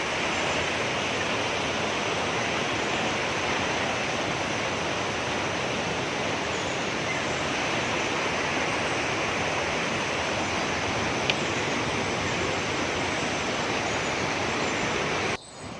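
Steady, roaring rush of a waterfall in the Kolli Hills, broad and continuous, with no breaks for the whole stretch and no voices.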